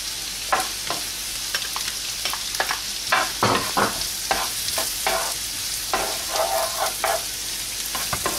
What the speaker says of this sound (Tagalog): I-fry lang natin hanggang maging golden brown